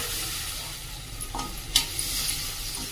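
Cumin powder, turmeric and tomato sauté in a pan for a spiced wheat vermicelli dish, with a low continuous sizzle and a few soft spatula scrapes and clinks near the middle, close by.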